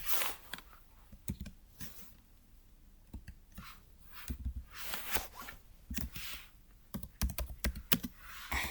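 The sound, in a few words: typing on a computer keyboard, writing HTML header code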